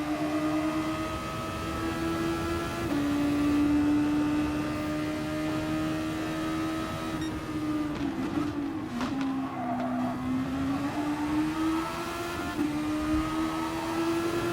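A Super Formula race car in GT Sport at Interlagos holds a steady, droning engine note throughout, easing into a dip and recovering as it lifts and accelerates again, loud and continuous with no voices over it.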